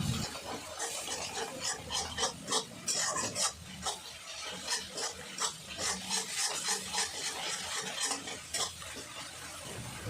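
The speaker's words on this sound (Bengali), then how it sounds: "ভালো করে নাড়াচাড়া করে নেব।" Spiced mung dal masala and water are stirred in a pan, a close scraping and rubbing in uneven repeated strokes over a soft sizzle, with no talking.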